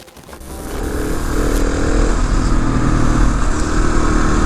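A Husky 701 supermoto motorcycle engine cranks and fires, swelling over the first second into a loud, steady single-cylinder idle that holds on alone without talk.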